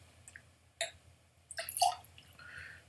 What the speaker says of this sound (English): Put some water in there to clean it out